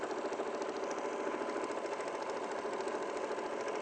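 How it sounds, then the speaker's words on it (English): A sewing machine runs a back stitch with a steady, even whir and rapid needle rhythm, close and moderately quiet, with no talk over it. "So here I would do a back stitch to fix it"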